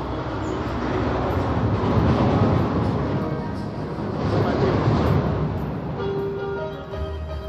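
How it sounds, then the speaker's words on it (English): A departing Montezooma's Revenge roller coaster train, its final public run at the amusement park, rumbles as a loud, steady broadband roar that swells and fades over several seconds, with faint voices in the background. "Well, there's the last train."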